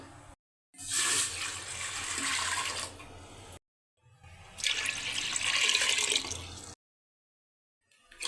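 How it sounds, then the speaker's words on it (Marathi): Two separate bursts of water being poured into a pressure cooker on a gas stove, each a couple of seconds of splashing, close and fairly loud, with silent gaps between. "आता मी गॅसवरती कुकर ठेवलेला आहे आता हिच्यामध्ये तीन तांबे पाणी टाकून घेते मी"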